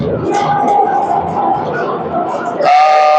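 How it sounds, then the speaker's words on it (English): A referee's whistle sounds at a youth ice hockey game, a sharp, steady tone that comes in late and rises over the rink noise and the voices of commentators talking. "And that's going to be a whistle."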